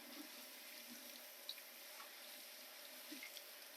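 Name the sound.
rinsing rice in water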